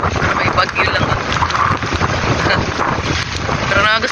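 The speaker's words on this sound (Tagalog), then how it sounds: "Ang hangin." Strong wind gusts roar against the microphone, rushing and buffeting throughout, with a voice speaking briefly underneath.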